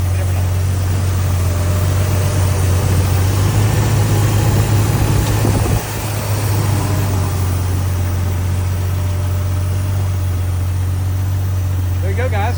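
Engine of a 2000 Jeep Wrangler Sahara with 25,000 miles, idling close by with a steady low hum and a brief dip partway through, while a person talks over it.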